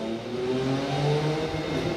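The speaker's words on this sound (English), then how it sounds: "Loud motorcycle." A motorcycle engine drones loudly and steadily, its pitch rising and falling slightly as it revs.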